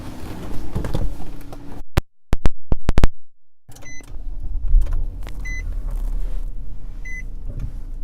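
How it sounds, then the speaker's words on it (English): Power moonroof of a 2017 Nissan Maxima motoring inside the quiet cabin: a steady electric whir with sharp clicks and a few short electronic beeps, heard up close with no talking. "Power moonroof."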